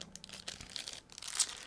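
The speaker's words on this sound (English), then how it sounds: "Next, I'm opening another plastic bag." Plastic bag holding canopy parts from a 1/48 scale P-47D model kit being opened, a short burst of close crinkling and rustling that rises to a sharper crackle near the end.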